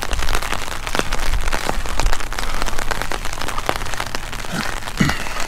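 Steady rain patters on an umbrella during an outdoor walk, a dense, continuous hiss of drops with occasional louder splats, no talking.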